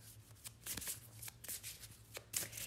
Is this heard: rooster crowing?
no